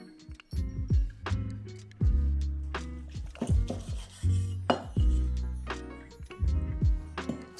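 A knife slicing boiled pork (suyuk) on a cutting board, a series of close, distinct cuts with soft thuds and scrapes against the board at an uneven rhythm and quiet gaps between them.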